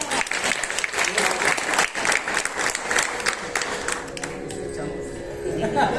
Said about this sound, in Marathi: कार्यक्रमात पुढे सरकण्यापूर्वी वादकांसाठी एकदा टाळ्या वाजवूया.